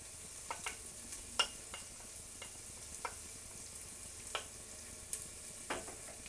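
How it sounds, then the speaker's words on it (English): Chili seeds and spices cook in a pan with a quiet, faint sizzle, broken by scattered soft clicks and taps from a utensil at irregular intervals. "I'm going to simmer these for 30 seconds just to cook the spices."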